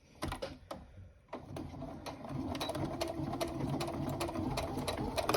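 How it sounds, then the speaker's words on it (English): Sewing machine stitching a tote bag seam at a quarter-inch allowance, quick rhythmic mechanical clatter in short bursts at first, then running continuously up close. "So you're going to sew down, get that clip out of the way, at about a 1/4 inch seam allowance"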